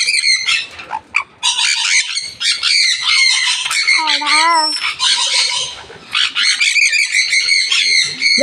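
A parrot or kite squawks loudly and close by in a long run of harsh, repeated, nearly continuous calls, with a few short pauses and one wavering cry midway.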